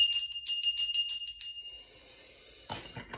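A small bell rung during a tarot reading gives a rapid run of bright, close rings that fade into a lingering tone, followed by a few soft clinks.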